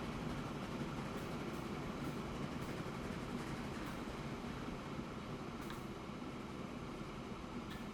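A train running on a rail line in the Transport Fever 2 game gives a steady, continuous rumble with faint clatter. It carries on at an even level for the whole stretch, with no voices.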